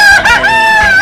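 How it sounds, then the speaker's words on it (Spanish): A fighting-breed rooster crows loud and close in one sustained, harmonic call, brought to a cockfight at a district anniversary celebration in Marcas. "estoy trayendo pelea de gallo, dos gallos"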